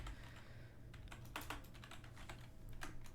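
Someone types on a computer keyboard while working on a Godot game project, giving quiet, irregular clicking keystrokes over a low steady background hum.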